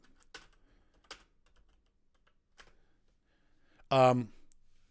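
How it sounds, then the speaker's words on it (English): A handful of sparse, separate clicks from a computer keyboard sound in near silence, followed by a short burst of a voice near the end. "I got to type"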